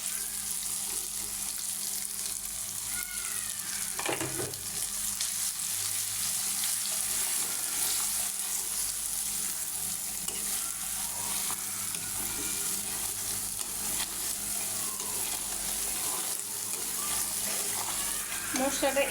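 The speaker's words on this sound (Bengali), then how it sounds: "মশলাটা এভাবে 2 মিনিট ধরে কষাবো" Spice paste of salt, cumin, turmeric, chili powder and coriander powder sizzles steadily in a pan for beef tripe curry, a continuous close hiss with occasional stirring scrapes and faint background noise.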